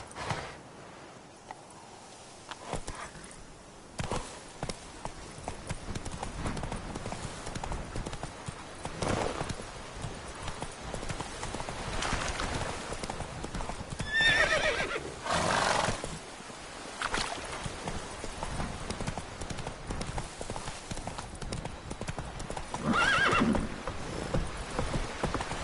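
Roach, Geralt's horse in The Witcher, runs at full gallop with continuous loud hoofbeats and a whinny, all within a dense game soundscape without speech.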